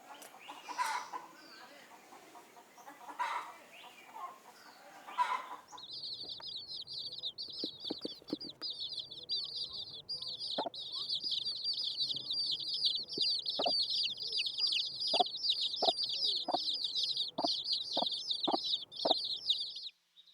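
Hens cluck and chatter continuously in a noisy coop, with occasional sharper clucks standing out over the steady background of birds.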